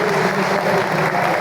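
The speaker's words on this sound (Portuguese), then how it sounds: "Uma salva de palmas aí." Church congregation breaks into a brief burst of applause during a Brazilian Baptist anniversary service, a dense wash of clapping that holds steady throughout.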